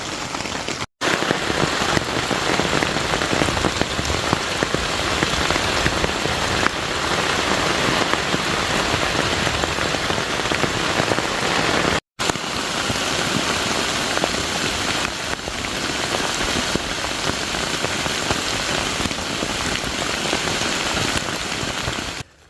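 Heavy thunderstorm rain drumming on an ultralight camping shelter, a dense, loud, unbroken roar of drops pattering on fabric close overhead, with two brief cuts in an otherwise constant downpour.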